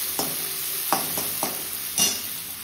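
Chopped tomatoes frying with onions in a pan, a steady soft sizzle broken by four distinct stirring scrapes at roughly even intervals, close and without talk.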